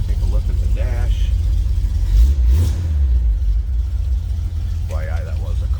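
Cold start of a 1963 Chevrolet Impala SS tribute with a 400 engine, settling into a deep, loud, steady low rumble at idle with a brief surge midway, while someone talks over it.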